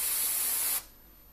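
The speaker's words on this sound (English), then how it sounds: "making sure that it's only spraying very lightly" An airbrush sprays a light mist of red paint onto the armour of a Blood Angels miniature, a steady bright hiss that cuts off sharply partway through, leaving only faint background noise.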